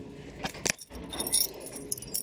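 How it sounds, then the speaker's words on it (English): Keys jangle and clink near a hotel room door lock in France, several metallic rattles and jingles in short irregular bursts, close by. "I gotta put the key in."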